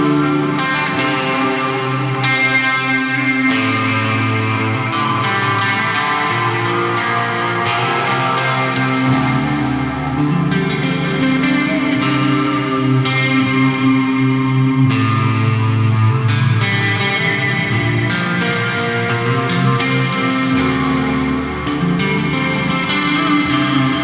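A Gibson 50's Standard Les Paul electric guitar plays a loud, sustained distorted passage with heavy effects, chords and notes ringing continuously for over twenty seconds with no speech.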